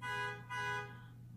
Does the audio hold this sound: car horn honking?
yes